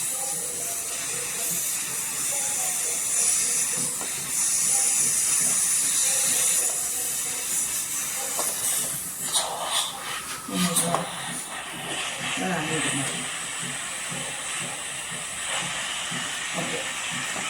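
Steam hisses steadily from a pressure cooker used to steam puttu. The hiss is a continuous, bright, close sound lasting the whole time, with a voice talking over it.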